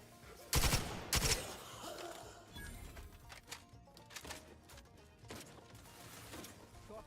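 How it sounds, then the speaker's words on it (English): Gunfire in the video game Outer Worlds 2, with rapid clattering bursts of automatic shots and a few louder single cracks, spread unevenly across the clip at moderate distance. "They're definitely still firing on someone."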